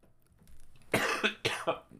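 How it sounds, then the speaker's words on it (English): A person coughs several times in quick succession, sharp and close, after a brief quiet moment. "That made me cough."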